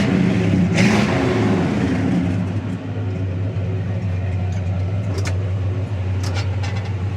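A 1967 Chevrolet Chevelle SS with a big block engine and 4-speed rumbles nearby, a loud steady engine note with a rev near the start, and a few sharp clicks and knocks later.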